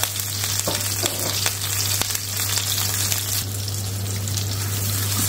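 Onions and cumin seeds sautéing in a pan for restaurant-style dal tadka give a steady, close sizzling and frying hiss with occasional stirring scrapes and a constant low hum underneath, no talking.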